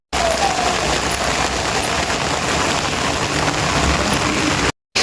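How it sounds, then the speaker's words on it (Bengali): Heavy rain pours in a loud, unbroken roar, a thick steady wash of drops with no voices, cutting off abruptly just before the end. "বৃষ্টি হয়ে গেল, এইভাবে তুমুল বৃষ্টি হচ্ছে।"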